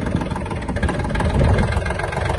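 Kubota L1-185 Japanese mini tractor engine running in low gear, a loud, steady diesel chug with a dense low rumble that swells slightly midway, close and without talk.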